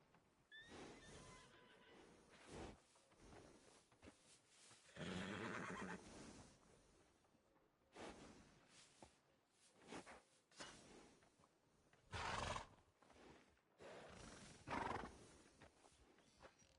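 A horse in the western video game Red Dead Redemption 2 whinnies and snorts among clip-clopping hooves, several loud neighs scattered across a moderately noisy game soundscape, with no talking.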